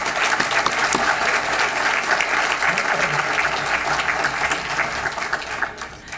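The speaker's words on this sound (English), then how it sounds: "One more time, round of applause." A ceremony audience at a student scholarship celebration breaks into loud, sustained applause, dense clapping filling several seconds before tapering slightly at the end.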